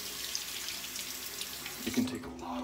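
A faucet runs water into a sink in a steady hiss, close and moderately quiet, with a brief splash or shift in flow near the end.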